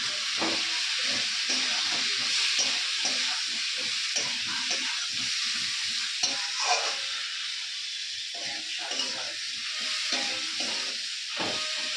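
Ground spice paste with cumin frying in a pan, a steady loud hiss and sizzle with frequent scraping stir clicks throughout, no voices.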